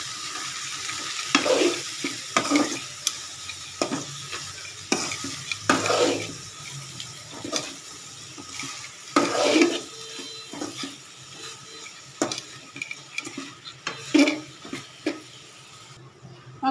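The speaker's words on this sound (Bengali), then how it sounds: "হলুদ গুঁড়ো দিয়ে দিলাম, মরিচ গুঁড়ো দিয়ে দিলাম, লবণ দিয়ে দিলাম, চিংড়ি মাছ দিয়ে দিলাম। এখন একটু ভালো করে কষাবো।" Shrimp with turmeric, chili powder and salt is sautéed in a pan, with repeated scraping stir strokes over a soft, steady sizzle. No one talks.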